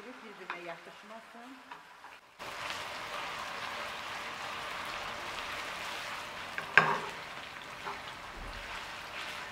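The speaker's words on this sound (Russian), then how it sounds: "После нагревания масла добавьте немного картофеля, чтобы они не прилипали друг к другу." Potato pieces dropped into hot oil in a home kitchen, a soft steady sizzle of frying that sets in after a quiet start, with a brief clatter partway through.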